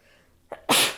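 A single sharp sneeze close to the mic, a short intake of breath followed by a loud explosive burst.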